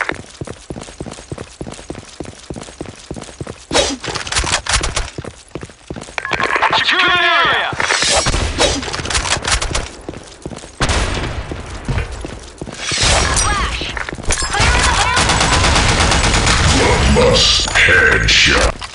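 Gunfire in the online shooter BlackShot, with rapid bursts of shots, dense clattering action and loud blasts running throughout, mixed with game effects and occasional voice chatter.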